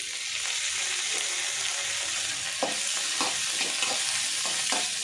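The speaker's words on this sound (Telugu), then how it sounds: "కొద్దిగా లైట్గా ఫ్రై అయితే సరిపోతుందండి" Onions and tomato fry in a pan for a spicy Andhra-style chicken curry, giving a loud constant sizzle with a few sharp stirring scrapes and clinks near the end.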